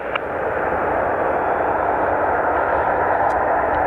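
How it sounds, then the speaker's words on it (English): An airliner taking off from runway 2 right at Dublin Airport, a steady broad jet engine roar holding at a constant loudness, fairly distant, with no talking over it. "Gemstone 74 Golf, surface wind is calm, runway 2 right, clear for takeoff"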